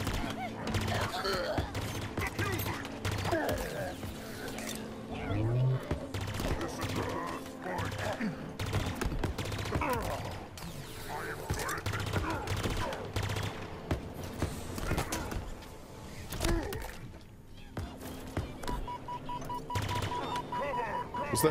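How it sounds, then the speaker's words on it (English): Pulse rifle gunfire in the video game Halo Infinite, rapid continuous bursts of shots mixed with other game effects, running steadily under a player talking. "Okay, so it's like a pulse rifle."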